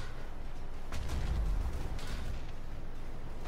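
Dalton cannon shots from an aircraft in Planetside 2, fired in a few heavy booms with explosions rumbling low under a constant game backdrop, the loudest burst coming around the middle.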